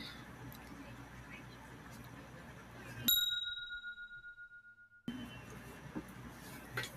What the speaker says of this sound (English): That's our bell.